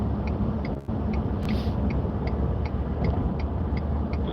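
A car drives in highway traffic, a steady low road rumble inside the cabin with a faint regular ticking, like a turn signal, running throughout and no voices.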